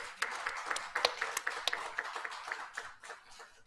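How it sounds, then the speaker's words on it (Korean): An audience at a public-private cooperation workshop applauds, a run of crisp, scattered handclaps that stays fairly close and steady for a few seconds before thinning out near the end, with no talk over it. "앞으로 더 많이 활동하시고 지원을 해달라는 의미에서 박수 한번 보내주시면"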